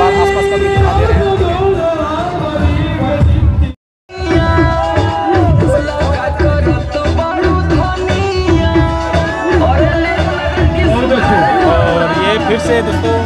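A village crowd at a dahi handi event in Dhanapur, Bhadohi, makes a loud, continuous babble of many voices mixed with DJ music. The noise cuts out briefly once, then carries on.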